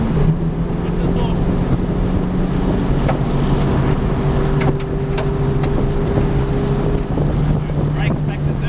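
The Ingall Holden Commodore race car accelerates hard around Norwell, its engine roaring loud and close with a steady droning note and heavy wind buffeting, while people talk over it.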